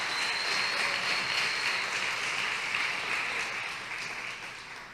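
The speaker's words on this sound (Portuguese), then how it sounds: "E se é para aplaudir, aplaude direito para Jesus" A church congregation applauding together, a dense, steady wash of clapping that holds for several seconds and slowly fades, with no voices over it.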